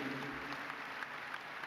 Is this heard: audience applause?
yes